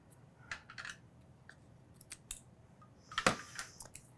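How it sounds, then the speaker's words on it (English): Scissors trimming the hinge of a card for a mini album, a few sharp, close snips spread out with short pauses, the loudest cuts near the end. "So I'm going to trim a little bit more off of this hinge."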